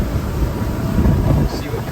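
A Pursuit DC266 twin-engine boat runs underway, giving a loud, close, steady engine and hull rumble mixed with wind and water noise, with a voice speaking over it.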